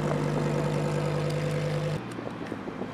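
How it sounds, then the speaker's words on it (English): A clean all-wheel-drive Lamborghini Huracan Evo with upgraded brake calipers idles close by, its engine giving a steady low rumble that drops abruptly to a quieter, rougher idle partway through, with no talking. "Listen to this Huracan Evo, looking clean, all-wheel drive"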